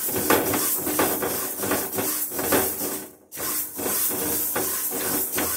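Fenugreek and mustard seeds roasting in a pan for amla pickle, giving a steady, fairly loud hiss and crackle with faint scraping, interrupted by a brief lull midway before resuming.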